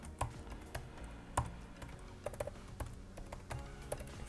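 Soft typing of code on a computer keyboard, with irregular individual key clicks and short quick runs of keystrokes, heard close up in a quiet room with no voices.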